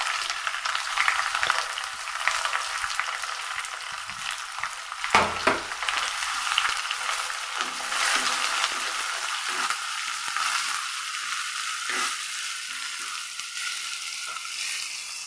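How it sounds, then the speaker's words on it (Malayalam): Chopped onion fries in a pan for a green peas dish, a dense, steady sizzle with occasional stirring scrapes and a clatter midway, heard alone. "ഇനി നമ്മളിതിലേക്ക് നമ്മൾ അരിഞ്ഞെടുത്ത നമ്മുടെ ഈ ഒരു സവോള ചേർക്കാം."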